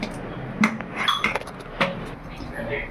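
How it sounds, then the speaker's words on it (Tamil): A metal appam pan is set down on a stove before batter goes in, giving a few sharp clinks and clanks of metal and cookware in quick, uneven succession, close and fairly loud. "இப்போ அடுப்பத்தை வச்சு ஆப்பத்தை ஊற்றிக்கிறோம்."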